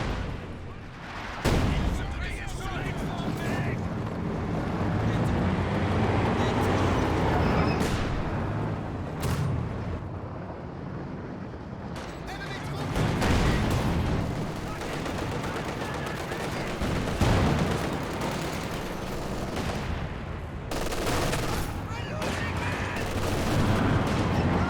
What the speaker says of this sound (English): is this barrage looking to clear off the MG42?